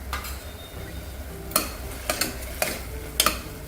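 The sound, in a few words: sautéing ginger garlic paste with onion, tomato and green chillies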